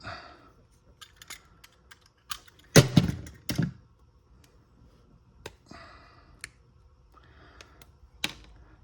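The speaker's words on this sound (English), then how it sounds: "I'm just gonna give this a quick cut." A battery cable is cut with a few sharp snips and clunks, close and fairly quiet, with one heavier bite in the middle and scattered small clicks between.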